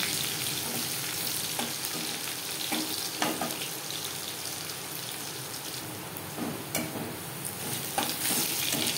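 Crushed garlic sizzles in hot oil in a pan, cooked lightly for a greens dish. The steady frying crackle runs close and fairly loud throughout, with a few sharper pops and stirring clinks and no talk.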